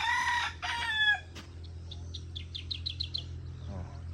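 A rooster crows once, fairly close, in a rural Philippine province yard, followed by a quieter series of small bird chirps over a low background hum.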